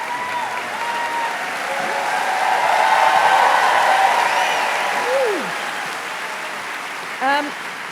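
A live audience at a podcast taping applauds for a city mayor, a dense wash of clapping that swells and fades, with a few faint voices rising over it.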